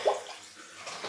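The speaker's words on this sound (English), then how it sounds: "Let the water out." Water draining out of a sink during a wet shave, a brief gurgling rush close by, with no talk.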